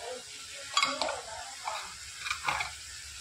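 A utensil stirs spinach and soaked moong dal in a pan with a soft sizzle underneath, giving a few faint scraping strokes at a gentle pace.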